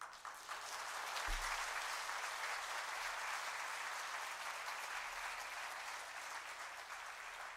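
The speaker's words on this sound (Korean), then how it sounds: "두 분 나오실 때 우리 열렬하게 박수로 환영해 주면 되겠습니다." An audience at a church gathering claps warmly to welcome two speakers to the front, a sustained wash of applause that runs steadily from start to end.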